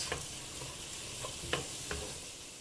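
Vermicelli cooking in butter in a pan while being stirred: a faint, steady sizzle with a few soft, light scrapes.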